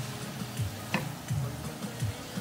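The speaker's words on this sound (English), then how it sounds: "Then we're also going to stir this in together." Stirring a pot of simmering seafood paella, with a steady close sizzle and soft scraping strokes of a spoon repeating every half second or so, no talking.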